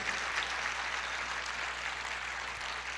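A church congregation applauding during a sermon, a steady wash of many hands clapping together, sustained and even for a few seconds with a low hum beneath and no clear talk.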